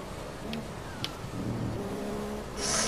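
A Formula 1 race car engine in the video game F1 2015 drones steadily, its pitch shifting as the car brakes and accelerates, with a brighter surge of engine noise at the very end.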